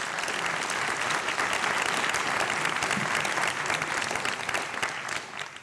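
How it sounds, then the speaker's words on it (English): An audience at an awards ceremony gives sustained applause for award recipients, a dense, even wash of clapping from many hands that holds steady and then begins to fade. "Round of applause for our recipients."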